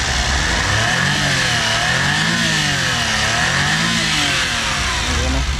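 A 660cc turbocharged T6A minivan engine runs steadily with a rising and falling hum, its pitch wavering as it idles and revs lightly, close by.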